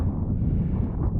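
Wind gusting over a mountain ridge in Snowdonia, a low rumbling buffeting that stays steady and close for the brief moment, with no talk.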